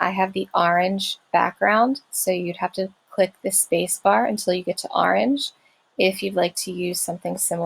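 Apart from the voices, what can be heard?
None of the usual background noises is heard.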